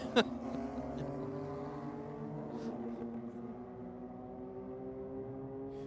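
BMW and Honda cars racing side by side down a drag strip at a JDM and Euro night, a steady layered engine drone with shifting harmonic tones, heard from a distance with faint crowd noise and brief voices.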